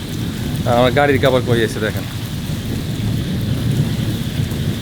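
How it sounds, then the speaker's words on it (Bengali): Heavy rain and rumbling thunder during a night cyclone, a dense low roar and steady rain hiss throughout, with someone speaking briefly over it near the start. "এই বছরের প্রথম ঘূর্ণিঝড় আমি একবার বৃষ্টিতে ভিজছি"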